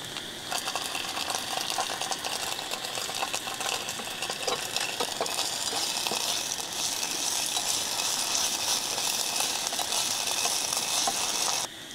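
Ginger garlic paste frying in a pan at a rainy monsoon campsite by a river, a steady close sizzle with scattered stirring scrapes and clinks running the whole time, no talk.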